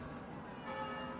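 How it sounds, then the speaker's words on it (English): Church bells toll in the Banner Saga 3 video game, sustained and ringing steadily over a dense, continuous background din of battle, with no clear gaps. "bells toll above the din of the carnage outside"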